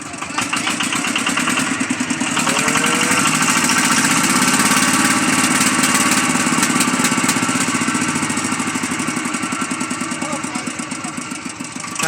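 A farm plough tractor engine runs steadily and loudly at a constant, throbbing idle for the whole stretch, with a faint voice now and then underneath.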